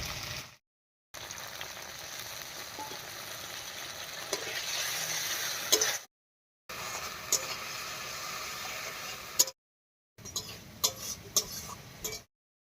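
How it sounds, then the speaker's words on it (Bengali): Ground spice paste thinned with water being stirred and fried in a pan for a vegetarian moong dal with pointed gourd, soft sizzling with scraping spoon strokes, broken by several short silent gaps. "এবার এর মধ্যে একটুখানি মশলা বাটা জল দিয়ে কষিয়ে নেব"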